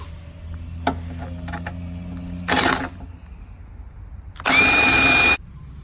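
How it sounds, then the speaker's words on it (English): Electric impact wrench drives a lower control arm bolt on a Jeep Patriot or Compass, 2007 to 2017, firing two loud bursts, a short one and then a longer hammering run, after quieter clanks of tools and metal. "we can try to drill it up in there with our ratchet, or in my case, an electrical impact"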